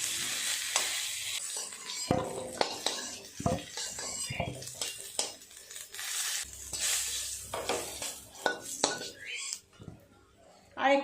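Potatoes and pointed gourd fry and are stirred in a wok, the oil sizzling softly under repeated scrapes and clinks of a metal spatula against the pan, while someone talks intermittently nearby.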